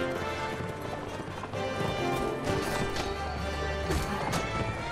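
Armored horses in the Mount & Blade Warband video game, hooves clip-clopping at a run in a dense, steady clatter with occasional knocks and a faint whinny, continuous throughout.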